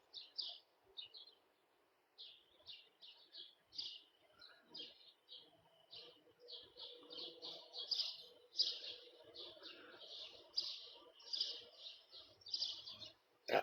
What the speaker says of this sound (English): All the birds are coming out now.